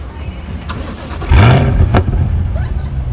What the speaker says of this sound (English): You can start the engine